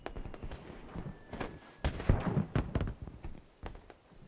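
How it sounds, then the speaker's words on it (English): Fireworks explode in the Batman Arkham Asylum video game, a rapid series of sharp bangs and crackling bursts, some loud and close, scattered irregularly over a dense rumbling mix. "Damn fireworks!"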